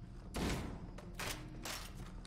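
Weapon fire in the Halo video game comes in two bursts of loud, close gunshots with a short gap between them, and no one talks over them.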